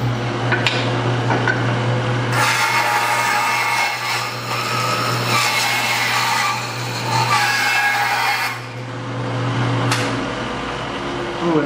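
Power saw trimming a piece of a simple wooden pen box to fit snugly, a loud continuous cutting whine running for several seconds over a steady low hum.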